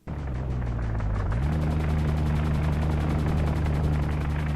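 An enemy aircraft in the UBOAT WWII submarine simulator game drones overhead with a steady propeller rumble and a rapid pulsing beat, holding loud and constant throughout.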